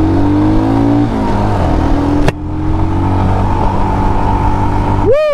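A 2023 Royal Enfield Himalayan motorcycle on a test ride, its engine droning steadily and loud with wind rush; the pitch shifts partway through as the rider changes speed, and a brief clank sounds midway.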